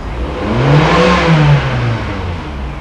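A parked car's engine is revved a second time during a diagnostic check, climbing smoothly and easing back down with no knocking or rattling, close and fairly loud with no talking.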